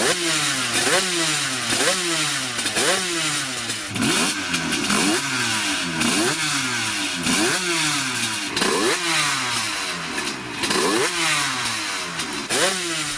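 SRC 475 V3 two-stroke motorcycle engine revs repeatedly, each blip rising sharply and falling back in a regular cycle, crackling and barking loudly and close up with no talk over it.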